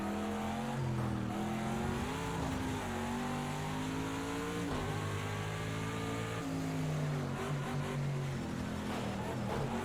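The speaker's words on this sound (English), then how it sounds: "Go ahead and start slowing the car down." A GT race car in Project Cars 2 easing off around the Indianapolis circuit, its engine droning steadily with falling and shifting pitch as it slows, loud and continuous without talk.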